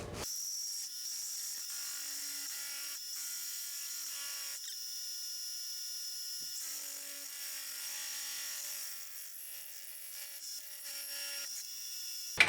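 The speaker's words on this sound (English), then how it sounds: "it's more of like an annular cutter than it is anything else" An annular cutter drills a bolt hole, making a faint, steady, continuous high-pitched cutting whir for about twelve seconds that ends in a small clunk.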